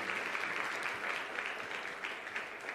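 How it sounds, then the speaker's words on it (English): Dense, steady applause from a large audience at a Merck Foundation summit, a continuous wash of many hands clapping at once that holds its level throughout with no voices rising above it. "So piga makofi tafadhali"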